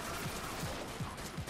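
Rapid SMG gunfire in the video game Dead Nation, heard as a steady rattling burst that runs through the whole moment at an even mid level, with regular heavier thumps at intervals underneath.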